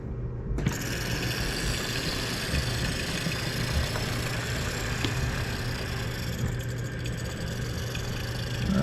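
A train engine idling and rumbling as it prepares to pull railcars out, a steady low mechanical drone with faint hiss, close and continuous for the whole stretch.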